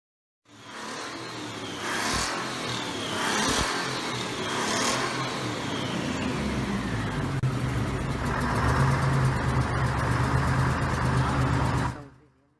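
A two-stroke diesel engine running, a loud, dense mechanical roar with a few revving surges early on before settling into a steady, heavy drone, with no talking.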